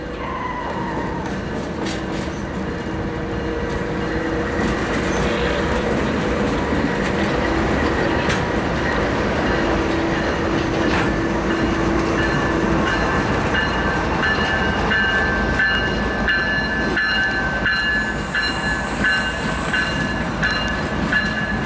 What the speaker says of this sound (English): Once the Luzerne and Susquehanna has the passenger portion of the circus train on its own tracks